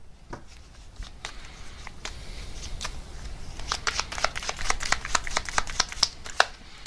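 Tarot cards shuffled and drawn at close range, a run of quick crisp riffles and slaps that grow denser and louder toward the end, with a faint background hiss and no talking.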